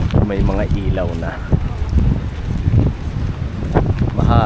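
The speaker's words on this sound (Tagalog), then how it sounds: "Mahangin." Strong seashore wind buffets the microphone with a low, gusty, continuous rumble, while people talk nearby over it.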